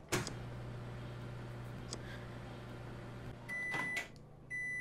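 A microwave oven hums steadily in the Job Simulator virtual kitchen, with a low continuous drone, a few soft clicks, and two short bright electronic beeps near the end.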